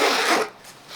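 A zipper on a Code of Bell Apex Liner briefcase is pulled open in one quick, close rasping run that fades after about half a second, leaving quiet.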